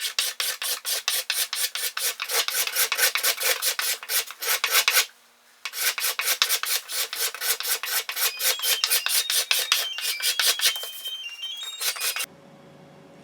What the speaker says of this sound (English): now it's time to scrape